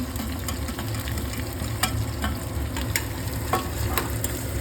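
Whole garam masala spices crackle and sizzle with onions in hot oil for an egg curry, a steady frying hiss broken by sharp pops and occasional stirring scrapes, close and alone.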